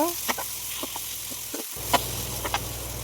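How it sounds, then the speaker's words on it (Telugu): Marinated chicken frying in a pan with onions for green chicken curry, a continuous close sizzle and hiss with a few sharp stirring clicks and scrapes, no voices. "చికెన్ ఫ్రై అవుతుంది"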